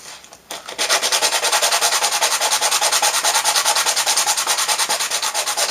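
A wooden ukulele bridge is rubbed back and forth on a flat sanding surface, producing steady rhythmic rasping strokes, close and loud, repeating at an even quick pace with no talking.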